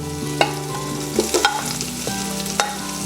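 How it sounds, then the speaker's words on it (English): Ginger sautéing in hot oil with softened onions for chicken tinola, a close, steady sizzle broken by several spoon-against-pan clinks and scrapes, no voices. "we're going to saute the ginger"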